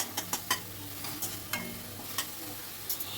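Onion with ginger-garlic paste stirred in a frying pan for jackfruit kofta curry: a spoon scrapes and clacks in short, irregular strokes over a steady soft sizzle of oil, close by, with no voices.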